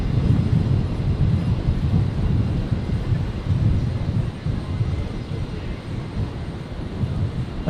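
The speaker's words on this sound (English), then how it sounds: "little Cessna Citation touching down there" A small Cessna Citation business jet touches down at Brisbane International Airport, its engines giving a loud, low rumbling roar that swells and eases in waves, with no voices over it.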